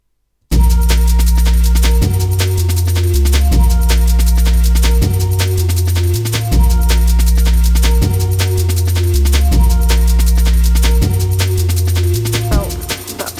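Wavetable synth sawtooth bass line steps through a repeating pattern, its resonant LFO filter sweeping, with compression and hybrid reverb over a steady, loud, dense texture full of sharp rhythmic hits.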